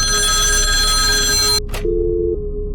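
A telephone rings in the horror game The Apartment 57, a loud electronic trill held for over a second, then cut off and followed by a shorter low buzzing tone.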